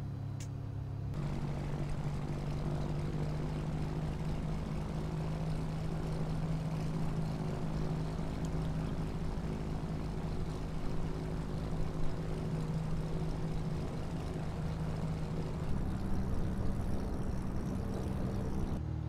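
Piper Turbo Arrow single-engine propeller plane simulated in Microsoft Flight Simulator, its engine droning steadily at taxi power, then rising in pitch and level near the end as the throttle is pushed up a little.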